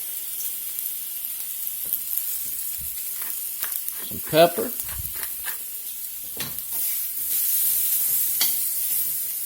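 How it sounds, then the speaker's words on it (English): Asparagus spears sizzle and hiss in a hot pan, a continuous frying crackle with a brief stirring clatter midway; a speaker talks briefly over it about adding pepper. "I'm just going to let them steam there just a minute"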